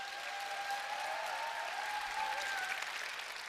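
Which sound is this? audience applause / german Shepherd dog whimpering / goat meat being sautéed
audience applause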